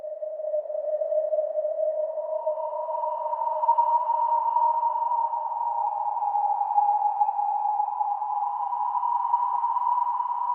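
Citrus synth patch called Orc Cloud, played in FL Studio: a sustained, smooth tone holding steady with a second layer entering after two seconds, continuous and fairly loud with no talk.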